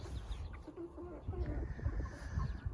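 Soft, close hen clucking in short bursts over faint background murmur; quiet and intimate.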